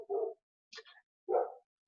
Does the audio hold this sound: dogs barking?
yes